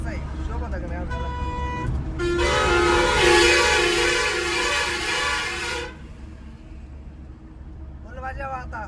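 On the road, a vehicle horn blares in a long sustained blast after a shorter toot, loud and near over engine and traffic rumble, followed by another brief honk, while someone talks throughout.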